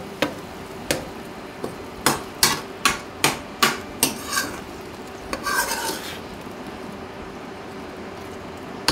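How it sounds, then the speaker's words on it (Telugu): A metal ladle stirs tomato pieces into a brinjal and chicken curry. It raps and scrapes the pot in a run of sharp, fairly close clinks, about a dozen strikes over several seconds, then eases into softer scraping with faint sizzling underneath. "ఈ టమాటా ముక్కలు కూడా బాగా కలిసే విధంగా కలుపుకోవాలండి గరిటెతో"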